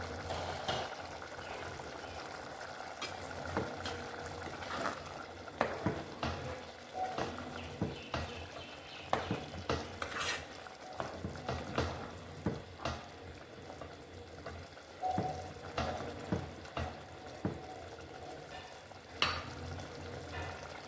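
Oil sizzles steadily under a pot of restaurant-style chana masala, with intermittent scrapes and knocks of stirring over a low background hiss throughout.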